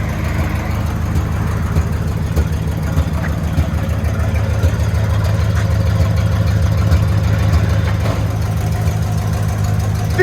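A 1952 Chevy Styline V8 fitted with headers and glass pack mufflers idles with a steady, deep, loping rumble, heard close up and continuous throughout, with no talking.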